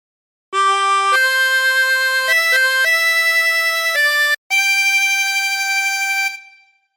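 A harmonica plays a slow, sustained melody alone, notes shifting pitch and bending between them, loud and close, with a brief pause before a final held note.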